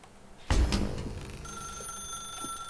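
An old-style telephone bell rings in The Stanley Parable, starting with a sharp clattering burst and settling into a sustained metallic ringing tone, close and moderately loud, with no speech.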